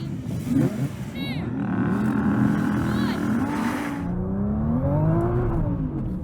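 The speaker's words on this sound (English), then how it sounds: "But here's a quick clip for you guys just to show you the drag race." A Porsche 911 Turbo S drag racing a Nissan GT-R: engines rev and pull hard through rising and falling gear changes, a loud continuous roar with a whine on top, while voices talk and shout over it.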